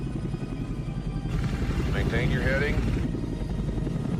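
A steady, loud aircraft engine drone fills a movie flight scene, continuous throughout while someone speaks over it.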